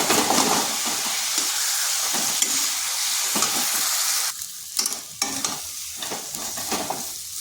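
Mashed boiled potato is stirred into spices in a hot pan, making a loud continuous sizzle with scraping strokes that give way to intermittent stirring scrapes and brief pauses.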